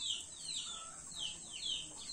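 Native chickens cluck and call softly at a distance in a backyard, with short repeated notes over a quiet outdoor background.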